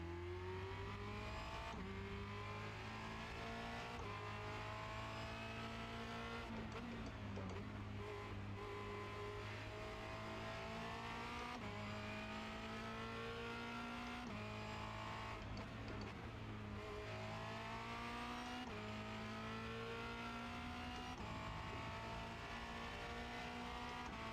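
A Formula Renault 2.0 race car at Circuit de Barcelona-Catalunya, heard onboard, with its engine revving high and dropping repeatedly through gear changes as it brakes and accelerates around the lap.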